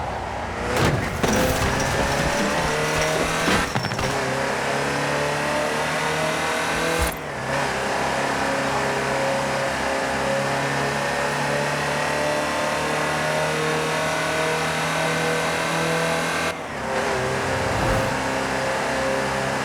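A Land Rover Type 3 in the Forza Horizon 4 video game drives with a steady mid-pitched engine drone and revs, broken by a few brief shifts and bumps, with no talk.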